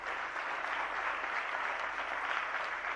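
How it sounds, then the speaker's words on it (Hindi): Steady audience applause at a spiritual discourse event, a dense wash of many hands clapping continuously at moderate loudness with no voices on top. "जरा जोरदार तालियां बजाइएगा।"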